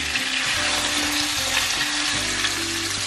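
Pieces of freshly caught carp and snapper frying in a pan of clarified butter, a loud, dense, steady sizzle close up, with a faint low hum beneath and no speech.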